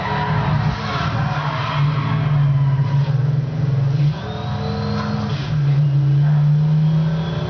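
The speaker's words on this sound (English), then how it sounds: "whenever it's changing gears, it changes in a weird way." Car engine in the Midnight Club LA racing game revs steadily and loud, with its pitch dropping abruptly at gear changes around the middle and again later before climbing once more.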